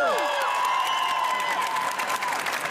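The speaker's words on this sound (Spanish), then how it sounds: "Pero un aplauso que nos lo oiga." An audience breaks into sustained applause and cheering at a live entertainment show, with a dense wash of clapping and a few high whistles and shouts rising over it, loud and steady throughout.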